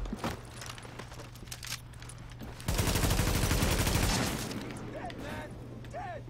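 Automatic weapon gunfire in the video game The Division, a dense sustained burst of rapid shots lasting over a second amid quieter game sounds and scattered clicks, with a short radio-like voice line near the start.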